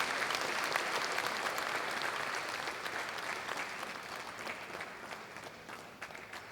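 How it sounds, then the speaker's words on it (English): A university convocation audience gives a graduate a sustained round of applause, steady and fairly distant, easing slightly toward the end, with no voices on top. "A tremendous round of applause, please."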